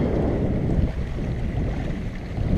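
Steady, non-gusty wind of around 8 to 12 mph rushing across the microphone aboard a sailboat, a continuous broadband roar with water wash underneath and no talking.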